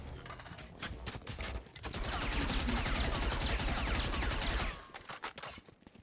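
Valorant weapon fire: a dense, continuous burst of rapid shots runs for about three seconds, framed by sparser single shots before and after.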